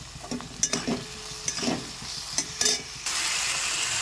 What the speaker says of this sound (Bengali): এবার দিয়ে দেবো হলুদ গুঁড়ো আর লঙ্কার গুঁড়ো দিয়ে ভালো করে কষাবো